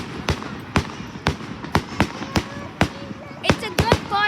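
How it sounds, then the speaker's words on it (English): Repeated sharp firework bangs, about a dozen over four seconds in an irregular rhythm, some crackling, at a backyard fireworks display; a person talks between the blasts. "It's a good firework."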